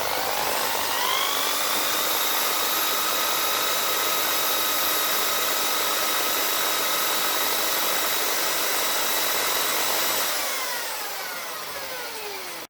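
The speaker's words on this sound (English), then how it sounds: "what we're going to do is hone out the inside of the caliper" A power-driven hone spins inside the bore of a Rover 75 front brake caliper, producing a steady high-pitched whirring grind that holds evenly for about ten seconds before winding down and fading.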